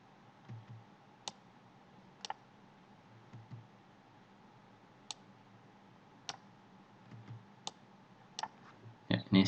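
Sparse, separate clicks of keys on a computer keyboard, struck one at a time with gaps between them during work in Adobe Flash, close and fairly quiet, ending in a short burst of quicker taps.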